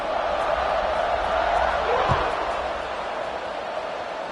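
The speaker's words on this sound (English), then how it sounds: "this crowd is buzzing after that last score" A college football stadium crowd at Colorado versus Texas A&M buzzes after a score, a dense, loud, steady roar of thousands of voices with a brief thump partway through.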